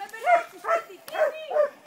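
A female dog at a shelter in Pirgos gives four short, soft barks in an even rhythm, close and fairly quiet, with no other sound around them.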